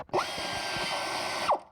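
An air ratchet runs in one continuous, loud burst of about a second and a half to break a bolt loose on a car alternator, with short whirring spin-ups at the start and finish.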